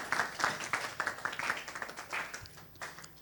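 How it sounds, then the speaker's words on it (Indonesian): An audience claps at a church youth gathering: a short, fairly quiet burst of clapping with quick, uneven claps, fading toward the end. "Kasih tepuk tangan dong buat Filipo."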